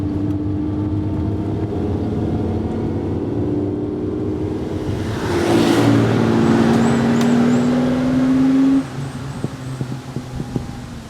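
A classic Ferrari 365 GTC/4 engine idles and hums steadily, then revs up with a rising tone before easing back down near the end; no voices.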